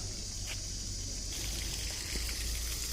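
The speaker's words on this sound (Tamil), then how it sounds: "நந்தி சிலையிலேருந்து வாயில் தண்ணி கொட்டிக்கிட்டே இருக்குது" Water pours steadily from the mouth of a Nandi statue at Tirumala, a continuous close splashing trickle with no talk.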